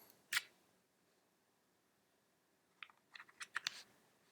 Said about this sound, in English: Let's go ahead now and swap over the memory cards.